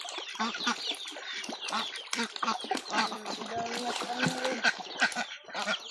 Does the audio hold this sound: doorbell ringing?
no